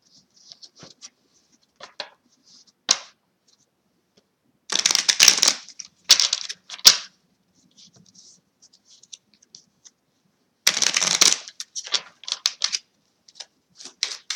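Tarot cards shuffled and handled up close, with crisp riffling bursts and scattered taps separated by near-silent pauses.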